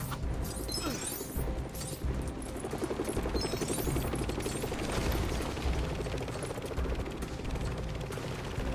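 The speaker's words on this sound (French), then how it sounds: "Si on refait d'autres jeux Lego ensemble, tu verras, t'auras beaucoup de manivelles comme ça." A crank turns a mechanism in the LEGO Marvel Super Heroes video game, giving a fast run of ratcheting, gear-like clicks with a few sweeping game effects over it, continuous and close.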